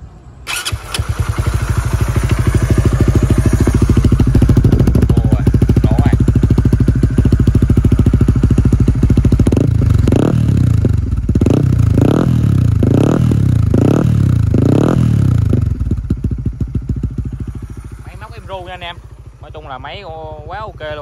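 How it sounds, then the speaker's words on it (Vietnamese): Honda Winner motorcycle fitted with a 65 mm bore kit and a BRT cam starts and runs, its loud steady engine note holding throughout with a burst of revving blips near the end before dropping back to idle. "Thì giờ sẽ nổ máy cho anh em nghe thử."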